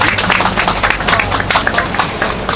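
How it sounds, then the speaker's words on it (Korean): An audience at a memorial lecture applauds after the talk ends, dense continuous clapping from many hands filling the room, steady and loud throughout. "오늘 고생해주신 한웅구 선생님께 다시 한번 박수 드리면서 강연을 마치도록 하겠습니다."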